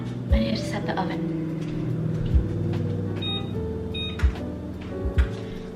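An oven's control panel gives a few short, clear electronic beeps spaced apart, sounding over a steady kitchen hum while someone talks.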